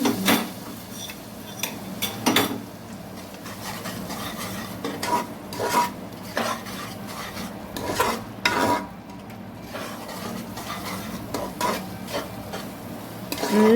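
Beetroot halwa being stirred in ghee in a pan, with repeated scraping and clinking strokes of a spoon against the metal over a soft, steady sizzle, close and fairly loud, with no talking.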